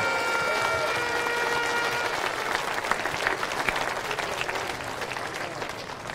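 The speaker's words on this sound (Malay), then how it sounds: "Bagi satu lagi tepukan" An audience at a political rally in Sungai Rapat, Gopeng, breaks into dense, steady applause that holds for several seconds and thins slightly toward the end, with faint crowd murmur under it.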